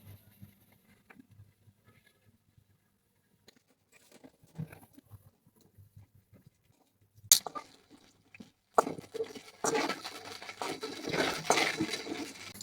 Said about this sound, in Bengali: নিয়ে কয়েকটা কুমড়ো বড়ি আমি একটু ভেজে নিই হালকা করে।